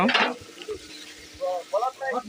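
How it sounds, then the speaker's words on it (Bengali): Food sizzling while cooking in a pan, a short burst of frying at the start followed by quieter sizzling, with a voice speaking over part of it. "এরপরে এখানে রান্না হচ্ছে রান্না হচ্ছে"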